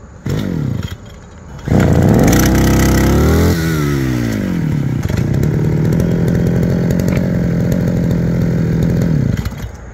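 Gasoline brush cutter engine catching after a pull-cord start for the new mowing season, firing up loud and close, briefly revving, then settling into a steady high whine that holds to the end, with no talking.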